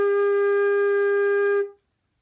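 A single sustained flute G, held steadily for about a second and a half with a clean, pure tone, then fading out quickly into silence.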